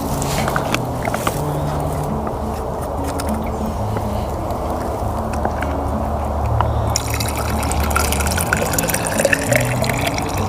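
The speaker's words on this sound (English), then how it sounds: "that water's coming out crystal clear" A continuous trickle of filtered water pouring and dripping into a container outdoors, fairly loud and close, with low background rumble throughout.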